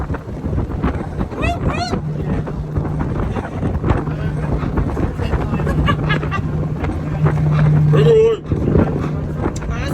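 A luxury yacht motoring at speed toward Phi Phi Island in Thailand, with a continuous engine drone and heavy wind buffeting the microphone, while people cheer and talk excitedly over it.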